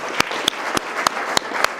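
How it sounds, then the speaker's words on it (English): An audience applauds at a mayoral debate with a steady wash of clapping and distinct, evenly spaced sharp claps standing out, close and fairly loud. "I think we should all give Scott a round of applause."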